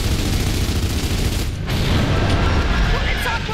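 Dense gunfire in Gears of War 3 rattles in rapid bursts amid booming impacts and battlefield clatter, loud and close, with voices talking over the fighting.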